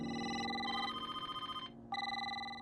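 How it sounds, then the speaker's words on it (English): Several telephones ring at once in a tense horror scene, a bright warbling electronic ring that pauses briefly and then resumes, loud and close with no voices. "Suddenly, every phone rings, but when Angela answers, there is only sile"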